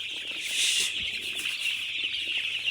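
Young broiler chicks about six days old on a poultry farm peep and cheep continuously in a dense, steady chorus, with faint fluttering and clucks underneath and no talking.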